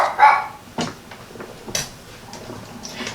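A dog barks at a passing trash truck, a few sharp separate barks spread across a few seconds, fairly close, with other faint household noise between them and no talk.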